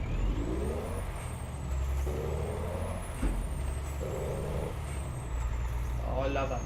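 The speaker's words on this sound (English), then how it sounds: "I love that fucking exhaust wobble." A heavy truck engine in Euro Truck Simulator 2 rumbles with a wobbling exhaust note, along with an air-brake hiss and a voice talking over it.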